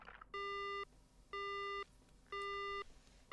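A phone line goes dead in the horror video game Death Mark, giving a repeating tone of long, evenly spaced beeps, four pulses with short gaps, loud and alone.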